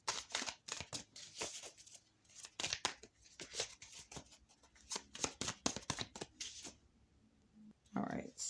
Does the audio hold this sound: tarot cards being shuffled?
yes